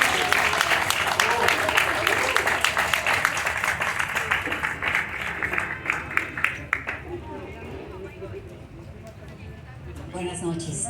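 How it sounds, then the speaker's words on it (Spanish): Audience applause at a chile festival, loud dense clapping for several seconds that thins into scattered claps and fades, with murmuring crowd voices and a speaker beginning at the end. "un fuerte aplauso por favor"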